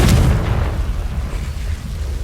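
Booming Confringo blasting-spell explosions from Hogwarts Legacy, a heavy burst at the start decaying into a low rumbling tail, with no talk.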